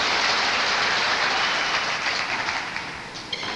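Crowd applauding at a squash match in Ireland in 1981, a dense steady wash of clapping that starts full and thins slightly toward the end, with no voices over it.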